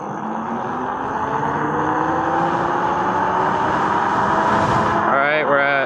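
A Ridstar Q20 e-bike with a newly installed motor pulls away hard from a standstill, its electric whine climbing steadily in pitch over rushing wind, then wavering near the end.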